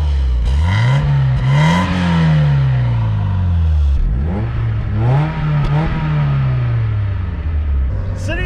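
A Mazda Miata engine heard from inside the cabin on a ride-along, revving up through repeated acceleration pulls with rising pitch, dropping at each shift and climbing again, loud and close.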